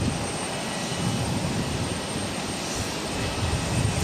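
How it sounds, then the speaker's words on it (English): A Southwest Boeing 737 MAX 8 jet takes off at Boston, its engines a steady broadband roar holding evenly throughout with no talk. "This is Southwest Airlines 2395 taking off to Austin on a MAX 8."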